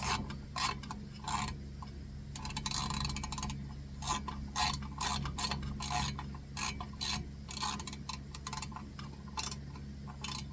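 Wrench ratcheting as a fitting is tightened on a Predator 9000 generator being converted to run on gas and propane: a close, steady series of quick clicks and rasping bursts with short pauses, no talk.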